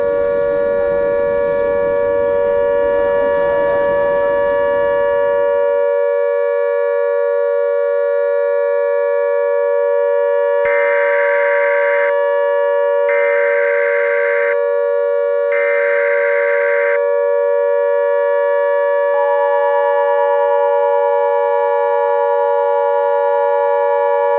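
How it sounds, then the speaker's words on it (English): A loud, steady all-clear civil defense siren holds one wailing pitch throughout. Early on it sits under noisy clatter, and later it is joined by three evenly spaced pulsing tones. "Is that the all-clear siren?"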